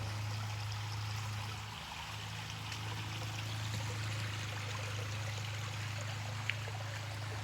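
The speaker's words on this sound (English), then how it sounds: "Got some water in my creek right now because we had some heavy rains." Creek water swollen by heavy rain flows and trickles continuously at a steady, moderate level alongside a low constant hum, with no talking.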